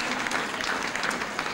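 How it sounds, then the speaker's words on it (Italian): Audience applause at a comedy show, a dense, steady patter of many hands clapping throughout, fairly close and even in loudness. "facciamo un applauso, Rastelli"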